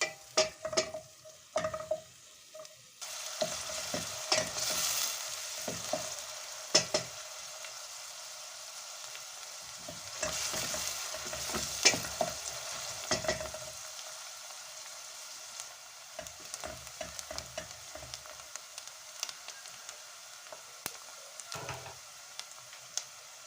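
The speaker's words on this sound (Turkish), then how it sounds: "soğanlarımızı pembeleşene kadar kavuracağım" Chopped onions sauté in oil in a pot, a light sizzle broken by frequent scraping stirs of a spoon against the pot, close and irregular, with no voices.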